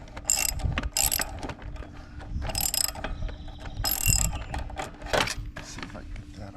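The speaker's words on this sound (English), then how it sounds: "I'm going to use my impact socket with an extension on. So we're going to get this old one off here" Ratchet-type clicks and mechanical rattles as an impact socket on an extension loosens an old spark plug from a lawn mower engine, coming in short, uneven bursts close by.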